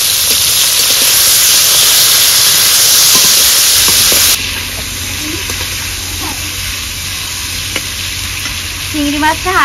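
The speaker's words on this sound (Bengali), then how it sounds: "চিংড়িটা ভেজে নেব।" Bagda prawns frying in hot oil, a loud steady sizzle and hiss that drops to a quieter crackle partway through, with light scraping stirs near the end.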